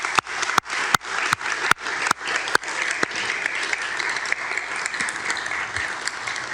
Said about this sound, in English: give a round of applause to this year's graduates